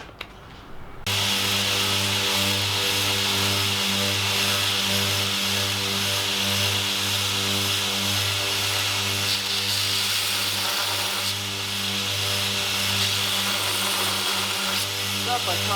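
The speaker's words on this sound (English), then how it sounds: "So that's now ready for the belt grinder." A belt grinder works on a freshly forged steel hammer head, giving a loud, steady whine that begins after about a second and runs unbroken with little change to the end.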